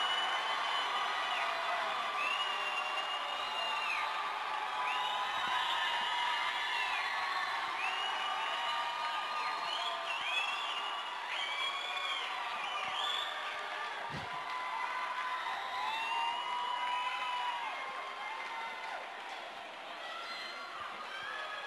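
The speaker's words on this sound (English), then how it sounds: "listen to this crowd here at the Edge in Bensenville" A crowd at an ice hockey arena roars and cheers continuously after a tying third-period goal in a high school game. The sound is full and sustained, with whoops and shouts layered through the din.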